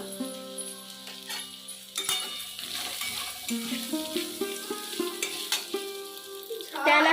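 Potatoes with reddened garlic and turmeric fry in a pan, a close sizzle with stirring scrapes that swells after a couple of seconds and continues steadily.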